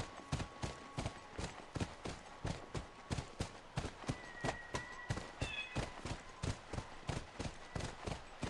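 Horse hooves clip-clop in a steady, fast rhythm as the animal moves through The Last of Us video game, repeated sharp impacts running throughout against a low ambient background with brief tonal game sounds.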